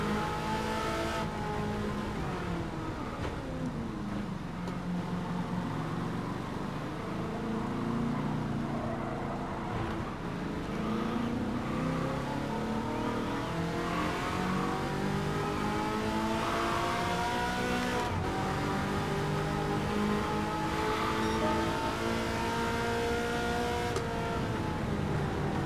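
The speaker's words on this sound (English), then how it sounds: "I gotta shift into a higher gear just to not listen to the engine rev that high" Car engine in Gran Turismo 7, revving high and sweeping up and down in pitch through gear changes, loud and continuous for the whole stretch with no talking.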